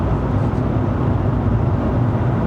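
Infiniti Q50 2.0T GT turbocharged petrol engine pulling steadily under throttle on a Malaysian test drive, a continuous low drone with road and cabin rumble, heard from inside the car without speech.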